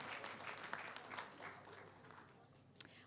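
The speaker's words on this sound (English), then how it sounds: "another round of applause for them" Audience applause at a gender forum conference, a faint, distant wash of clapping from a crowd in a hall that trails off, with a brief sharp tap near the end.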